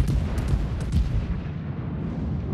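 Warship main battery salvo in the naval combat game World of Warships: a dense, rumbling boom with repeated low thumps that rolls on steadily without pause, loud and close, with no voices.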